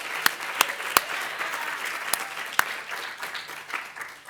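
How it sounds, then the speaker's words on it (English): An audience applauds a college tour staff team at a closing ceremony, with scattered individual claps rising out of a moderate, steady patter. "Let's give them a round of applause because you know they deserve it"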